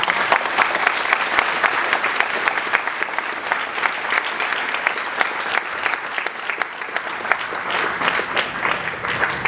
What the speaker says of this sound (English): give a quick round of applause to the amazing teachers and the amazing students